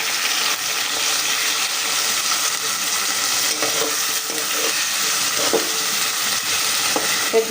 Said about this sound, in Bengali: এখানে মাংসের জন্য পেঁয়াজ আর গোটা গরম মশলা ভেজে নিতেছি